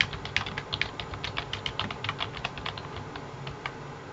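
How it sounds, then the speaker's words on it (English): Rapid typing on a computer keyboard, a steady run of light clicking keystrokes with short pauses, close and clear with no voices. "you would hit enter once to start typing your first paragraph"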